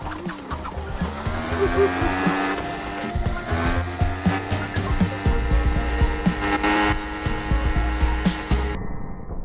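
A motorcycle engine in a video game revs and climbs in pitch, droning steadily with brief shifts and squeals, up close and loud, then cuts off abruptly.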